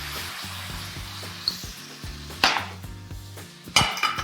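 Pork juices sizzle in a hot pan as a sauce for Asian pork belly sandwiches, a soft steady frying hiss with a low hum beneath and two sharp louder bursts of crackle.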